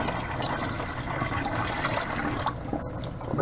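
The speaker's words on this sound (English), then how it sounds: "I'm just going to pour this brine down the sink." Brine that once held raw rabbit meat is poured down a kitchen sink. The liquid gives a steady, rushing splash for several seconds, close and continuous, with no one speaking.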